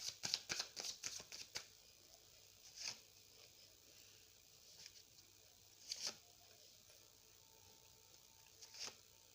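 Tarot cards being shuffled up close: a quick flurry of crisp riffling flicks at the start, then occasional isolated card slides and soft rustles spaced out over a quiet background.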